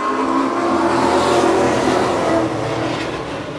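Race cars pour onto a dirt track at a weekly racing night, a loud continuous roar of engines that fills the clip and eases slightly toward the end, with no voices heard.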